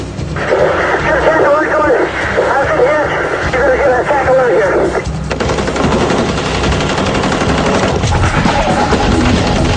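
Automatic rifle fire sprays in all directions during the North Hollywood shootout bank robbery, a dense, continuous rattle of rapid shots filling the whole stretch, with voices heard over it.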